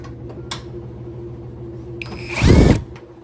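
A power drill backs screws out of a washer-dryer during repair, with faint clicks and handling noise before one loud, close whir that lasts about half a second.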